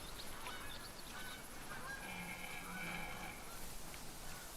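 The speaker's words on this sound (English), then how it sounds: "We're gonna have more of those geese land in this field." Geese honking over a field in a deer-hunting video game, a flock calling in overlapping honks against a dense, steady ambient bed, moderately distant.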